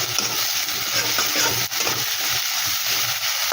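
Ginger and green chili paste sizzles in a pan, a dense continuous hiss with soft stirring scrapes and one brief dip, close up with no voices.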